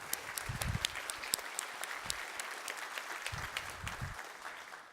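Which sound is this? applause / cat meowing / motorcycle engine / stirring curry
applause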